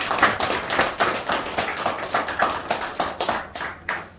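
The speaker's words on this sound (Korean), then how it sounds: "우리 목사님들께 다시 한번 큰 박수 부탁드립니다" A crowd claps for the pastors at an ordination ceremony, with distinct rhythmic hand claps that come in close, regular beats and taper off toward the end.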